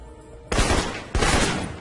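Two heavy, booming bursts of assault rifle fire in the Alpha Protocol video game, loud and close, each one trailing into a rolling echo.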